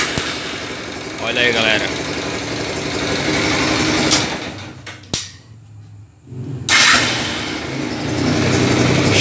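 A 2005 Yamaha YBR 125 ES motorcycle cranks on its electric starter, cuts out briefly, then catches and settles into a steady idle, with someone speaking near the start.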